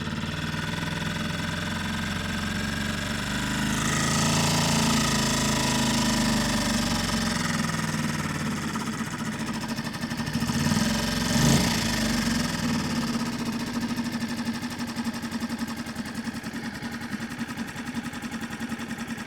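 Hangkai 6.5 four-stroke outboard engine idling, a steady close mechanical drone with a rough, pulsing rhythm that swells slightly midway and holds for the whole stretch, with no talk.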